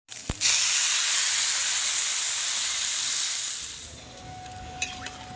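Water poured into a pot of fried rice for prawn pulao hits the hot oil with a sudden loud hiss and sizzle that stays strong for several seconds, then fades to a quieter bubbling.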